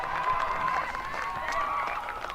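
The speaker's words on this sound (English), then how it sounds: "The applause you can hear in the background of this, the Loughborough players and fans celebrating in the sunshine" Applause and cheering from Loughborough players and fans celebrating outdoors in sunshine at a women's BUCS Super Rugby semi-final, a steady distant crowd murmur with scattered clapping.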